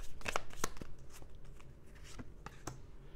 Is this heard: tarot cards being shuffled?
yes